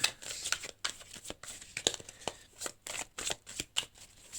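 Tarot cards shuffled by hand in a steady run of quick, soft riffling flutters and slaps, close and fairly quiet, with no talking over them.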